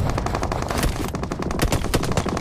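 Rapid machine-gun bursts and gunshots from a PUBG Mobile scrim match, loud and dense, firing continuously in quick succession with no talking.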